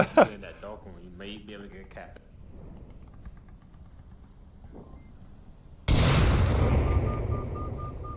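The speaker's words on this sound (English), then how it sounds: "That was a boss nade from Rushers." A grenade blast in the VR shooter Onward, a sudden loud boom that hits after several seconds of quieter gunfire and voices, then rings out in a long noisy roar.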